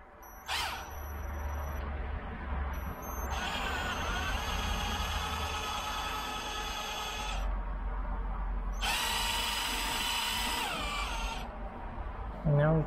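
A drill with a 3.5 bit bores a hole in a van body, running in two long, steady high-pitched bursts separated by a pause, close and loud over low background rumble.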